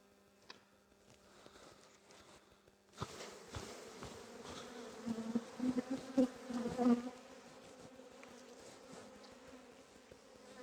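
Honeybees buzz in a dense, droning swarm that swells suddenly partway through as they are shaken off a hive frame, with irregular louder hums and light tapping, close by.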